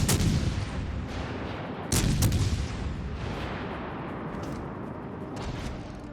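Naval guns fire in World of Warships Legends from a Suzuya cruiser, heavy booming salvos with a loud burst near the start and another around two seconds, trailing into rumbling echoes and distant shots.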